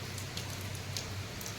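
Heavy rain falling steadily in Bhadrak district, a dense continuous hiss with scattered louder drops pattering on surfaces, close and unbroken without any voices.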